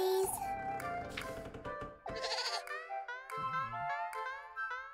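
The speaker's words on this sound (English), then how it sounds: "We're not taking the goat to town, Rosemarine." A goat bleats in the horror video game Little Goody Two Shoes, several wavering, nasal bleats in quick succession, close and clear, with a short gap partway through.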